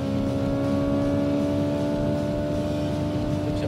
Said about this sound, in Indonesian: Jadi speakernya ngeluarin suara kayak mesin internal combustion.